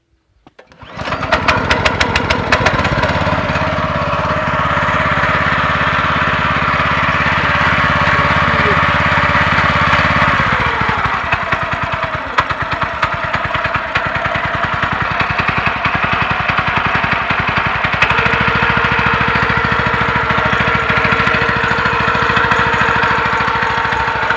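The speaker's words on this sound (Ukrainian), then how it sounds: "ну тепер заведемо двигун, почуємо як він працює" A small new engine, still being broken in, starts up and runs steadily at a loud, buzzing idle close by, with slight shifts in pitch as it keeps going.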